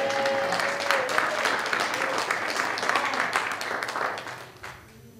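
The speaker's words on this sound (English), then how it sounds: "You better clap better than that." A church congregation at a gospel service claps and cheers together, a busy, lively burst of applause with voices mixed in that thins and fades near the end.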